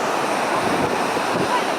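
Ocean waves washing onto a beach, a steady broadband surf wash with wind noise, filling the whole short stretch without talk.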